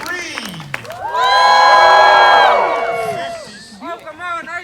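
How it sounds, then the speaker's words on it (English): An audience at the Polynesian Cultural Center on Oahu, Hawaii claps, cheers and whoops for a tree-climbing demonstration, a loud sustained burst of shouting and applause swelling after a host's call, then fading into scattered voices. "keep clapping"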